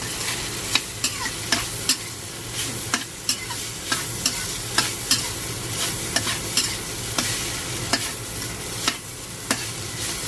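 Tofu stir-fried in oil until crisp for a vegetarian pumpkin stir-fry, a constant loud sizzle punctuated by regular sharp scrapes of a spatula against the pan roughly every half second, no voices.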